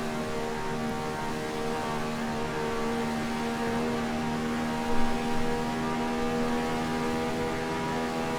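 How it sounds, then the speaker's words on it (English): Ferrari 312/67 V12 Formula 1 car at Monza in the video game Assetto Corsa, a steady high-pitched engine drone held at constant pitch throughout with a slight bump midway, no talk. "it's a Ferrari V12 Formula 1 car. So it's got that prestige and the sounds and everything"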